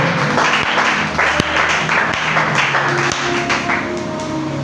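A church congregation claps and cheers together in praise, a loud, continuous wash of applause with some voices and sustained tones mixed in.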